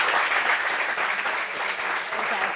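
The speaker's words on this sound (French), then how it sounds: "Applaudissements pour ça." Dense, steady applause from a studio audience at a talk-show discussion, continuous clapping filling the whole stretch with no break.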